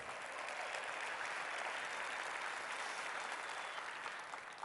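An audience of company leaders gives a steady, dense round of applause that continues evenly throughout and is heard from a distance.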